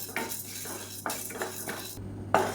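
Chana dal and toor dal dry-roasting in a pan, with a spoon scraping and clinking against the metal in several close, irregular strokes over a low steady hum.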